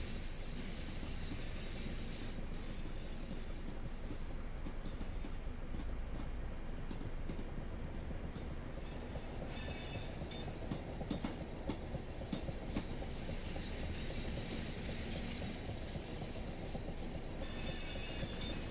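A train in Train Simulator 2019 on the Chatham Main Line rolls into a platform with steady rumbling, rhythmic wheel clatter and occasional high squeals of brakes, continuous and fairly close, with no talking.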